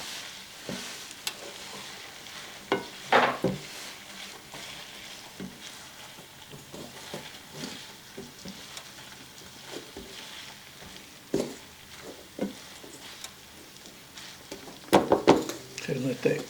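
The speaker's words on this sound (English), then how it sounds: "We're gonna brown this hamburger meat" Hamburger meat and onions browning in a pan make a soft, low sizzle, broken by intermittent scraping and stirring clatter, with a voice talking over parts of it.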